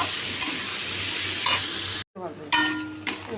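Curry sizzles and fries in a kadai while a spoon stirs it with several scraping strokes. Near the middle the sizzle breaks off briefly, then comes back with louder scrapes, and no one speaks.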